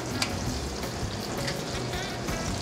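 Butter being whisked into a hot tequila sauce in a pan with the flame just turned off, a steady close sizzle with faint whisk scrapes, no talking.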